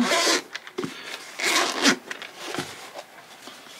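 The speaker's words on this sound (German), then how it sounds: "Ich mache das Hardcase mal auf." The zipper on a hard carrying case for a Flextail Tiny Repel mosquito repeller is pulled open, close up, in several quick rasping strokes separated by short pauses.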